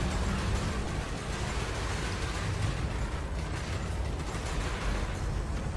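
Multicannon fire from a Diamondback Scout hammering a ship's hull in Elite Dangerous, a steady roaring, rumbling wash of rapid impacts that stays loud and unbroken throughout.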